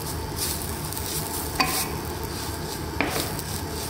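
Potato curry sizzles steadily in a pan while being stirred, with a couple of sharp utensil scrapes against the metal, close up and moderately quiet, no voices.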